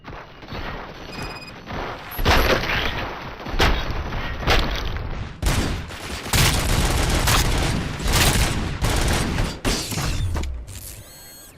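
Heavy gunfire in Robocop: Rogue City, loud bursts and sharp shots mixed with mechanical clanks and booms, coming in irregular volleys close up without any voices.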